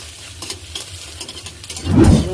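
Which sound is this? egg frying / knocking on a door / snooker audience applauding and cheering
egg frying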